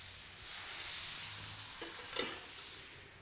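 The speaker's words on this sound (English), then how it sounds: "we call this deglazing in culinary terms" Oxtail seasoned with salt and pepper sizzles steadily in a pan as red wine goes in to deglaze, with a brief stirring scrape, close and continuous with no talk.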